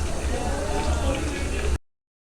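Lamb meat sizzles and bubbles steadily in hot ghee in a karahi pan, a continuous close crackling fry with speech over it, cutting off abruptly.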